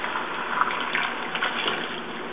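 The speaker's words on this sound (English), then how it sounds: "it's just a dry white wine that you just want to pour in there for the liquid" Dry white wine splashes steadily into a pan for a garlic chicken dish, a continuous liquid gush at moderate level with slight fluctuations, no talking.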